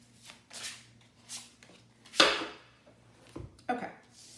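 Tarot cards being shuffled by hand: soft, intermittent papery rustles and one brighter riffle burst, quiet and close, with brief pauses between handfuls.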